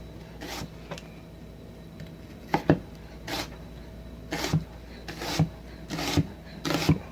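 A kitchen knife cuts peeled cucumber into thin slices for pickles, giving a steady series of crisp, close chopping taps against a board, with no talking.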